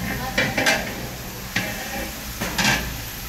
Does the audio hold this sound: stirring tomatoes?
yes